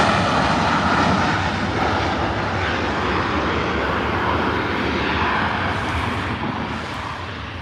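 An Alaska airliner taxis toward runway 25 left for takeoff, its engines giving a steady, loud broadband roar that holds evenly throughout with only a slight easing near the end.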